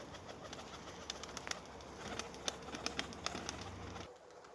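Pigeons coo in a low steady murmur outdoors on a windy day while sharp wing claps and flutters pop out near and repeatedly as birds take off and fly.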